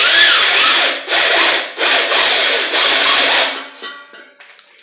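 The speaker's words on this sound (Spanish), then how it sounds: "ahí voy a empezar a agujerear, así después sacamos la manija a la garrafa" Drill bit boring holes into the steel of a gas cylinder for a small barbecue build, heard as four or five loud, close grinding bursts separated by short pauses, ending with fainter clicks and scrapes.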